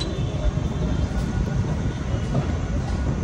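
A Konkan Railway MEMU train on the Panvel to Ratnagiri route runs at around 95 to 100 km/h, a loud, steady rumble and rattle heard from on board without a break.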